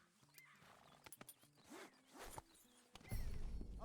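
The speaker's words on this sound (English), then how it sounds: "Okay, but I do kind of like this horse." A horse in the open world of Red Dead Redemption 2 gives a few hoof clops and a short whinny-like call, followed by louder, dense rustling movement near the end.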